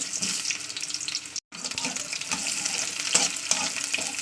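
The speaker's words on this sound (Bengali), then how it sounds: "তো তেলটা গরম হয়ে গেলে আমি দিয়ে দিলাম একটা পেঁয়াজ" Onion dropped into hot oil in a wok sizzles loudly and continuously, a dense crackling hiss with a brief cut partway through, close and alone without speech.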